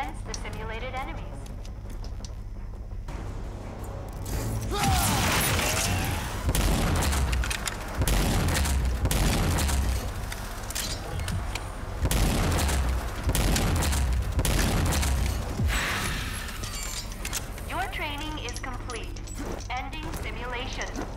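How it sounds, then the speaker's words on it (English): Heavy booming blasts from the hyper cannon's overdrive in the video game RAGE 2, a run of loud shots fired at simulated enemies amid game effects, with someone talking over parts of it. "Use the hyper cannon's overdrive against the simulated enemies."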